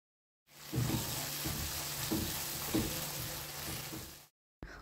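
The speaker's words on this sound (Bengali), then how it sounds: "এবার কিছুটা জল দিয়ে মশলাটাকে খুব ভালো করে কষে নিতে হবে।" Spice paste sautéed in a pan with a little added water for an okra curry, a steady close sizzle and frying hiss with occasional stirring scrapes, running alone for several seconds before cutting off.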